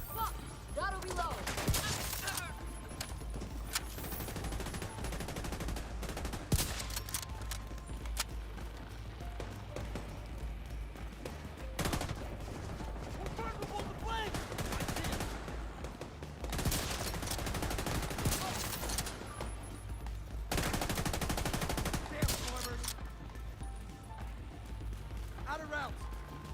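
Rapid gunfire bursts crackle repeatedly in The Division 2 video game, coming in loud volleys separated by short pauses, with game noise underneath throughout.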